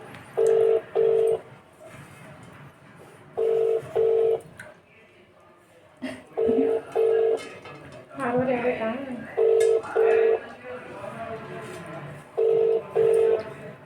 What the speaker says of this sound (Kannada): ಅಮೃತ ಅಂತ ಅವ್ರಿಗೆ ಮತ್ತೆ ಮಾಡ್ತಾ ಇದೀವಿ,